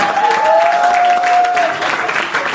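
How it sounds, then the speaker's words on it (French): An audience at a home concert applauds briefly, close, dense clapping with a whistle-like tone running through it. "Applaudissez pour Paquito, s'il vous plaît"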